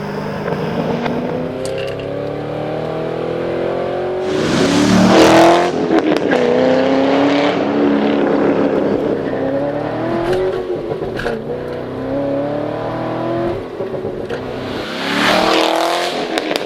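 A C6 Corvette Z06 with its 7-liter, 427-cubic-inch LS7 small-block V8 revs loudly and close, its engine note climbing and falling repeatedly through several sharp throttle blips.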